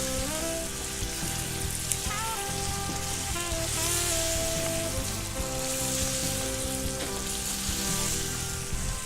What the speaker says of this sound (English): Always fry your meat on high heat.